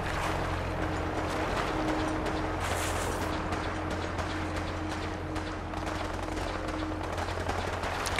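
Steady, dense gunfire rattles without pause in the video game Fallout 4. Machine-gun bursts and shots blend into a loud, continuous barrage that lasts the whole time, with no talking.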